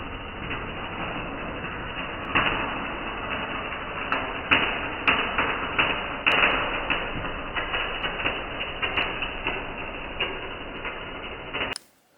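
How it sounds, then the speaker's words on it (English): Welding a motor mount onto a gearbox adapter for an electric vehicle conversion, a steady close crackling buzz broken by sharp tick-like pops and short bursts, ending abruptly. "we're just gonna be welding this piece together with this adapter, and that will take care of this front one. So yeah, let's bring out the welder."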